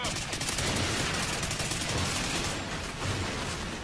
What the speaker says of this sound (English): There's just like explosives and shit going off continually